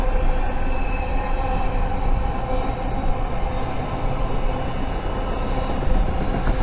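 A container freight train from Felixstowe to Crewe Basford Hall passes close by at a station, a loud steady rumble of wagons and wheels that holds for the whole stretch, with no voices.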